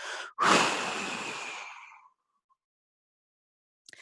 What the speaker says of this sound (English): And as you're ready, deep breath out.